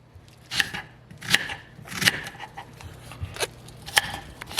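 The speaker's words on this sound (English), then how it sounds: "now I'm just going to cut my onion" A knife chops an onion on a board in a run of distinct, fairly sharp cuts, about six or seven strokes spaced unevenly, close and moderately loud with no talking.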